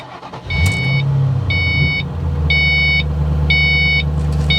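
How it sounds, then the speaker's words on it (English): A 2005 Saleen Mustang, clutch in, fires up with the key and settles into a loud, close, steady idle while a chime beeps in regular pulses over the engine. "Got my clutch in, going to turn the key."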